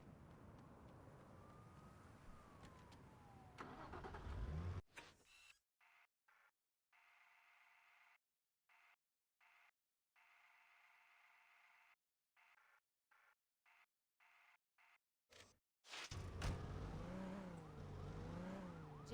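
A car engine runs and revs in the Saints Row video game, loud for the first few seconds, then drops to choppy, cut-up fragments before the engine roars back strongly near the end.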